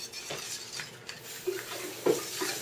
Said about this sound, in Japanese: 湯煎で卵の中にお砂糖、さあちゃんほら混ぜて。